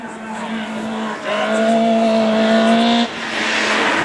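A Division 4 rallycross car at the 2012 French championship round in Lessay, with a prepared engine, revs hard from behind and accelerates in a loud, steady engine whine that climbs in pitch, with brief gear-change dips and faint tyre noise.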